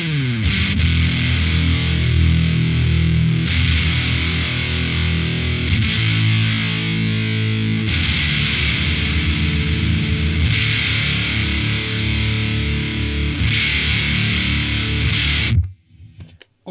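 Electric guitar chords strummed through a Guyatone TZ-2 fuzz pedal with the depth turned up, giving thick, hissy distorted chords that ring loud and sustained in repeated bursts before cutting off near the end.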